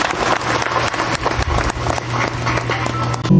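An enthusiastic congregation claps loudly after a thanksgiving prayer at a priestly ordination ceremony, a dense continuous patter of many hands close by that runs through the whole moment.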